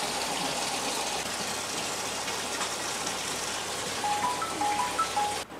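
A borewell motor pump on a single-phase dry-run control panel runs with water gushing out in a continuous, fairly loud rushing splash, steady throughout with faint tonal beeps near the end.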